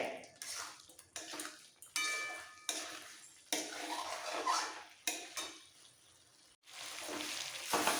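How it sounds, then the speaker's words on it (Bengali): Boiled new winter potatoes stir-fried with spices in a pan, a spatula scraping and clattering against the metal in repeated short bursts, close and fairly loud, with brief pauses between strokes. "আর কষাতে কষাতে সেদ্ধ আলুগুলো দিয়ে দিতে হবে"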